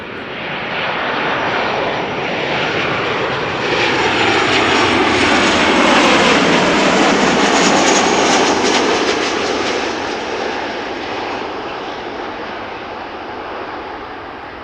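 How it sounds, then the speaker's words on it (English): A 14-year-old Transavia Boeing 737-800, registration PH-HSB, on arrival at Amsterdam Schiphol. Its engines make a loud, close, sustained roar that swells to a peak mid-pass and then slowly fades as it goes by, with no voices. "This is Transavia flight 5472 arriving from Meon. 737-800"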